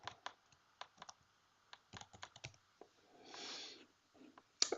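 Keys clatter on a computer keyboard in short irregular bursts of close, quiet clicks, with a brief soft rushing noise partway through and one sharper click at the end.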